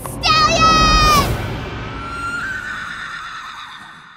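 A horse in the Borderlands 2 video game, set in Tiny Tina's Assault on Dragon Keep, lets out a loud, close whinny lasting about a second, followed by a trailing fantasy musical swell.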